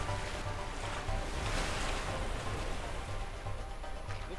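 Rough river rapids rushing around a boat in the video game A Way Out, a steady, loud broadband roar of churning water with a faint low rumble beneath and no voices.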